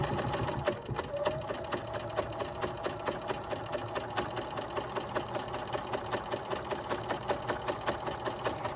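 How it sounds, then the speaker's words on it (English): A sewing machine topstitching fabric all the way to the edge, running with a fast, even mechanical chatter of regular stitch clicks, steady and close throughout, with no one speaking. "Sewing all the way to that edge,"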